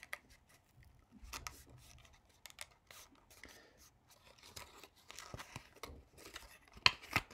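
Paper being folded and creased by hand while making a spectrometer for a chemistry class, soft rubbing and scraping sounds in quiet, uneven strokes, with a sharper crinkle near the end.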